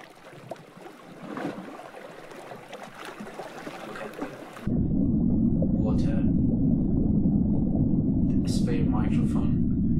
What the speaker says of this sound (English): Sphere has a microphone and it is inside the water, and we can see, we can hear the sounds of underwater.